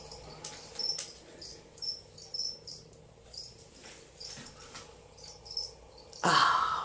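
A feeder cricket offered to a tarantula chirps in short, thin trills, faint and intermittent over soft rustling, before a louder scraping burst near the end.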